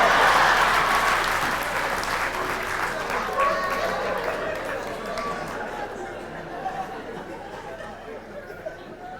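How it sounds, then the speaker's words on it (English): Comedy show audience applauding, loud dense clapping that gradually thins and tails off, with scattered chatter and chuckles mixed in. "give her a round of applause."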